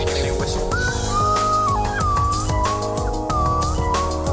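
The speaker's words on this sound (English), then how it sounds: "That's what they call a slide whistle." A slide whistle glides up and down in wavering pitch over a steady music backdrop, close and fairly loud.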